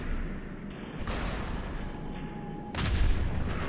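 An explosive projectile slams into an enemy in Fallout 4, giving a broad rumbling blast that swells in the final second over steady game ambience.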